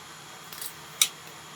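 Scissors snip through a thick, leather-like strip at a craft table, giving a brief rustle followed by one crisp, sharp cut, close and quiet.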